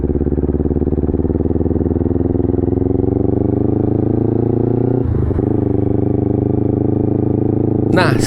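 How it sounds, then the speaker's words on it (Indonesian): A Kawasaki Ninja FI motorcycle sits warmed up on a night ride. Its exhaust gives a steady, close, throbbing idle drone that barely changes, with a brief clatter midway and a sharper burst at the end. "Ada kedengaran suara knalpot dari belakang."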